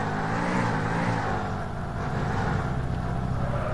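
A car driven in the MadOut2 video game gives off a steady, dense engine drone with a continuous road rumble. It stays loud and unbroken throughout, with no talk over it.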